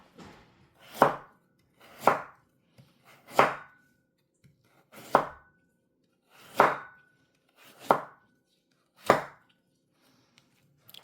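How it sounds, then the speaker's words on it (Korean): Seven firm knife strokes on a cutting board at steady intervals, a Korean kitchen knife pushed through carrots to slice them thinly on a 45-degree angle, each chop close and crisp with short pauses between. "자, 45도 얇게. 자, 한식 칼이니까 밀어서."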